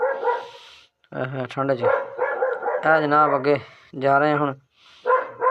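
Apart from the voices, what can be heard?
dogs barking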